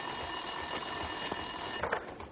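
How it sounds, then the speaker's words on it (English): A desk telephone ringing in an office of the video game Max Payne 2, a continuous electronic ring held steady at moderate level over a low background hum. "Winterson's phone was ringing."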